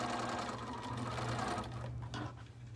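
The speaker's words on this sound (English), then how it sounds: "I am backstitching on this because I found that in kind of wrestling the pieces together a couple of steps from now, that seam allowance wanted to open." A sewing machine backstitches a seam with a rapid, steady mechanical whir of stitching, close and clear, then slows and briefly pauses near the end, with no one speaking.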